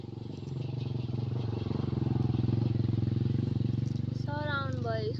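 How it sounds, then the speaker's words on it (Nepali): A motorcycle pulls up nearby, its engine rising into a close, steady throbbing putter that holds for several seconds, with a brief high chirp near the end. "कसको बाइक आयो नि गाइज।"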